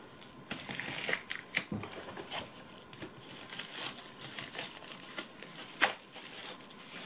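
Soft crinkling and rustling of paper being handled, with a few sharper crisp rustles standing out, close by and fairly quiet, no talking.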